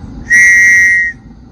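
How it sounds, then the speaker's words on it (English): A single sharp, shrill blast from an emergency whistle clipped to a 45L military tactical backpack, lasting under a second, loud and close with no talk. "and like this emergency whistle."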